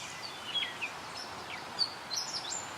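Robins singing in a wildlife area: faint, distant chirps and short whistled phrases scattered over a quiet outdoor background.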